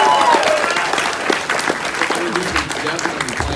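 Crowd clapping and cheering at a Red Dead Redemption 2 panel at Fan Expo Toronto 2019, a loud continuous wash of applause with voices mixed in throughout.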